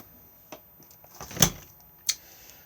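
Fridge-freezer door of an Auto-Trail Tribute F60 motorhome being opened, a few soft clicks followed by a sharp latch release and a second click, close by in a quiet interior.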